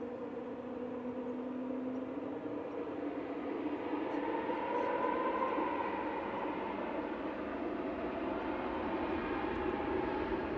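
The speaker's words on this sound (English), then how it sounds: "Lufthansa City on the roll to Munich, the AIJN and A320neo, flight 2505." Lufthansa City Airbus A320neo, flight 2505, on its takeoff roll at Manchester bound for Munich: a steady, fairly faint distant engine rumble with a rising whine tone, heard alone.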